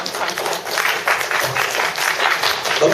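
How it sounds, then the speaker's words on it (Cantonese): Steady, dense audience applause fills a university election forum hall for the New Territories East race, many hands clapping continuously with no pauses. "咁大家俾掌聲佢啦。"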